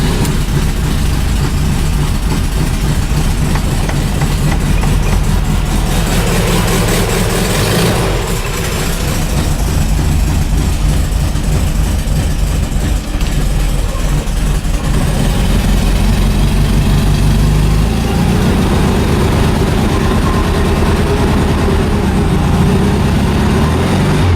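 Steady low engine idle from a 2007 Volkswagen Rabbit, 1994 Saturn SL2 and 1971 Volkswagen Beetle after a cold start, a continuous close rumble that holds even throughout with no talking.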